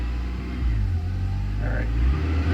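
A 1990 Honda Accord EX engine with an idle problem revs up on its own at idle, a close rumbling drone that rises and swells without throttle input.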